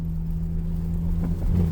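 A barn-find Honda CRX Si engine, previously seized after more than ten years of sitting, idles with a steady low rumble that rises slightly toward the end, with no talking.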